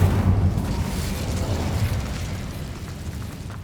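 Incendio fire spell cast in the video game Hogwarts Legacy, a roaring whoosh of flame with a strong low boom at the start that slowly settles into a steady burning rush.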